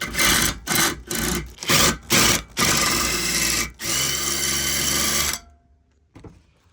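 A deburring tool with internal blades twisted onto the cut end of threaded rod (studding), producing loud, close, grinding rasps in several bursts, then one long scraping run before stopping abruptly into near silence.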